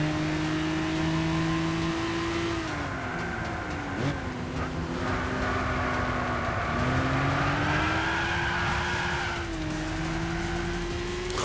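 A classic sports car in Gran Turismo 6 droning at low revs, the engine note sliding down and climbing again with gear changes, a steady loud hum with brief tire scrubbing and no talk.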